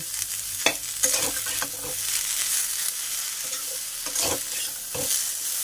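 Moringa drumsticks and potato seasoned with salt and turmeric fry in oil in a pan, a soft steady sizzle broken by occasional scraping stirs and clinks of the spoon, with no talking.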